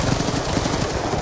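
Rapid gunfire rattles in a Rainbow Six Siege scrim match, a brief loud burst of close, repeated shots.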